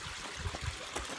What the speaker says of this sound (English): Sitting next to the river that flows down into my